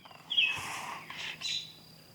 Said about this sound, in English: But there's still quite a few birds out.